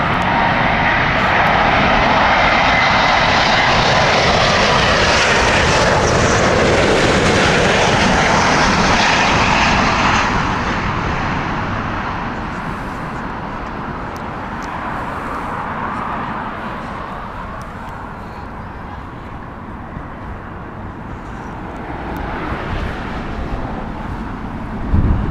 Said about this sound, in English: here is the Charlotte flight from American Airlines